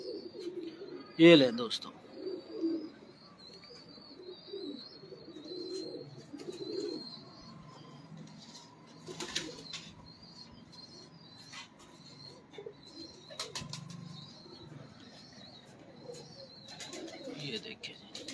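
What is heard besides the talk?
pigeons cooing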